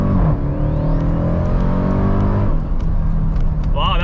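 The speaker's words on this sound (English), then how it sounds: "So with launch, you hit the brake all the way, and then hit the gas all the way," A Dodge Durango Hellcat SUV launches hard on launch control, its engine roar climbing steadily in pitch up through the gears, loud and close, with a person talking over it.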